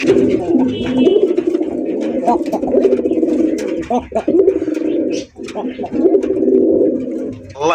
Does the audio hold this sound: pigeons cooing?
yes